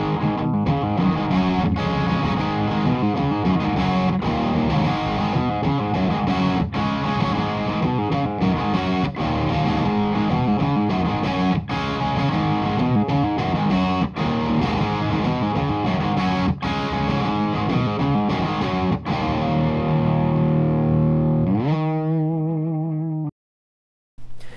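Distorted electric guitar through an amp, captured with an Apex 205 ribbon microphone, plays a continuous loud riff for over twenty seconds, ending in a sustained chord that cuts off abruptly.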